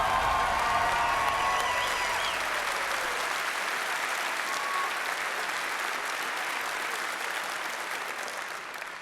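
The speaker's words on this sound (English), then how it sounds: "can I please get another round of applause for that man?" A large audience at Bethesda's Fallout 4 E3 2015 showcase applauds loudly and steadily, a dense wash of clapping that carries on with only a slight fade toward the end.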